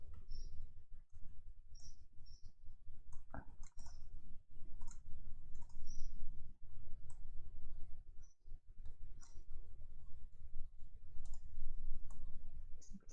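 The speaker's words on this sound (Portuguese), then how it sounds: "Simplesmente clicar nos pontos e a gente vai arrastando." A computer mouse is clicked repeatedly while points are dragged in structural analysis software, giving sharp, close clicks at irregular intervals over a low background rumble.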